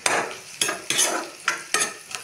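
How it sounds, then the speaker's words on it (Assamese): Onions being stirred in a frying pan with meat masala, five rhythmic scraping strokes over a soft sizzle, close and fairly loud with no talk. "পিঁয়াজখিনি লৰাই"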